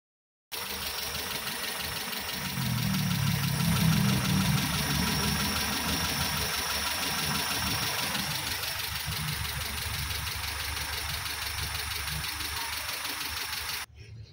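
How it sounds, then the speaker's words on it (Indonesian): A car engine that overheated and had oil mixed with coolant idles steadily while still cold just after being started, a close, continuous mechanical hum with a faint knocking texture and no talking. "ini sekarang sudah saya pasang dan mesinnya sudah saya nyalakan"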